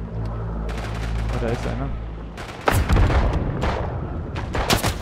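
Gunfire from the First World War shooter Isonzo bursts out in loud, sharp shots, first as a cluster and then again in later volleys, with someone speaking between them.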